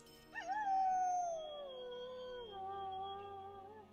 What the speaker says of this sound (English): Yes, that howling sound has been spooking the horses and making the men uneasy.